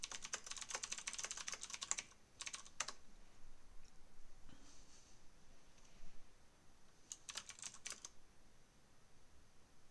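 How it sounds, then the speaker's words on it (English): Typing on a computer keyboard during a photography Q&A livestream, soft quick clicking bursts in two runs with a pause between, faint and close, no talking. "I'll just type something in as well."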